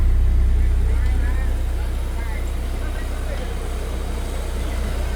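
A Kubota L50 tractor engine pulls a big log, giving a loud, steady low rumble that stays close and continuous for the whole stretch.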